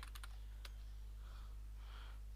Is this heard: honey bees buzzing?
no